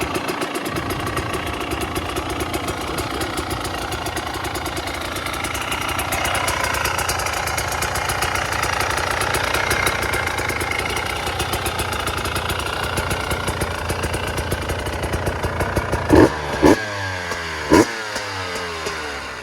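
A KTM 300 TPI two-stroke dirt bike with big wheels idles steadily, a buzzy, crackling two-stroke drone held close for a long stretch, then a few sharp blips of the throttle near the end.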